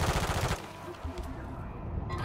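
Rapid bursts of Call of Duty gunfire crackle loudly, dense at first then thinning into scattered shots over a steady background rumble.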